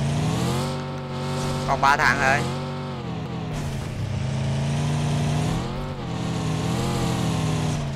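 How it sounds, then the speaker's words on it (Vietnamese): A motorcycle engine in the PUBG Mobile video game drones steadily with rising and falling revs, close and loud, while a player talks over it. "Dưới đây có xe máy à."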